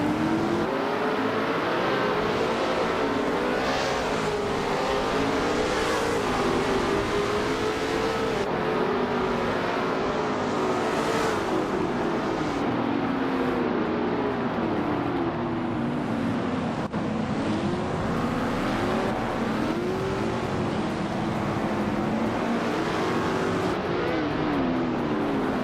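Race car engines in a racing video game roar and rise continuously, several cars revving and accelerating in overlapping waves, loud and close throughout with no voices.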